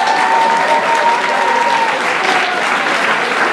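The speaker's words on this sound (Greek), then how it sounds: "ένα χειροκρότημα για τη φυσική τώρα" A classroom or lecture audience breaks into sustained applause in support of physics, steady dense clapping from many hands filling the room at a loud, even level with a faint tone running underneath.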